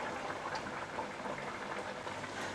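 Colocasia leaf rolls deep frying in hot oil, a steady soft bubbling and fizzing at moderate distance, even and continuous with no talking.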